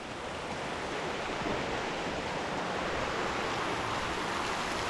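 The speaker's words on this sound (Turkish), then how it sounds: "Böyle bir dere buradan aşağı doğru gidiyor." A stream near All Saints Waterfalls in Germany rushes steadily and fairly softly, a continuous broad hiss like water running over rocks, with no voices.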